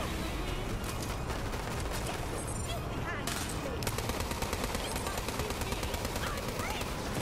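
Dense, continuous gunfire from a Borderlands 3 boss fight, rapid automatic bursts layered over constant game noise and effects, loud and busy throughout with no clear pauses.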